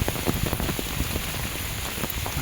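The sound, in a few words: rain falling on an umbrella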